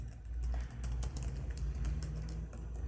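Computer keyboard typing into a word processor, a run of quick, light, irregular key clicks close to the listener with brief pauses between bursts, steady and alone without voices.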